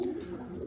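A short, soft, low coo from a pigeon kept in a loft for breeding, one brief murmuring call at close range with no talk.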